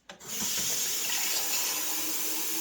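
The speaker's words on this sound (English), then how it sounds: "Now, for the time being, I'm just going to run it with tap water." Tap water runs steadily from a faucet to fill the reservoir of a Keurig K-Supreme Plus Special Edition coffee maker, a continuous close hiss and splash starting after a brief gurgle and holding evenly with no talk.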